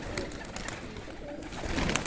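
Pigeons in a loft, likely of the Hacarpağa breed, cooing softly in repeated low calls over a quiet room, with faint scattered clicks and rustles.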